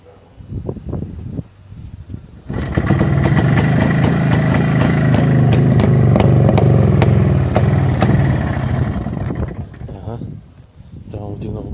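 An MZ ES 250/2 motorcycle engine catches after starting and runs loudly up close, a steady idling chug that fades near the end, with someone talking briefly before and after.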